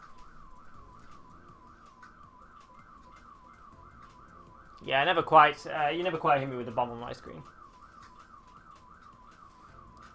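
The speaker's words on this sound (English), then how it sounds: "where we listen to a car alarm" Car alarm wailing outside in a steady warbling cycle, quiet and continuous in the background, briefly masked when someone talks over it midway.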